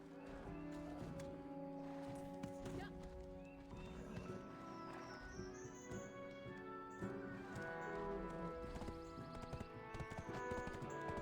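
Horse hooves clip-clop at a steady walking rhythm in the Black Desert video game, with occasional whinnies over in-game music and ambient sound, moderately near and fairly quiet.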